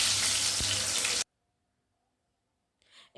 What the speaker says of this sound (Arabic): برضو هقلي الطماطم في الزيت زي ما انتوا شايفين كده